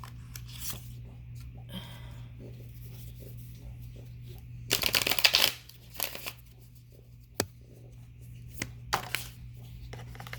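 Astrology cards are shuffled in several bursts of quick, close riffling and flicking, separated by softer handling taps and brief pauses.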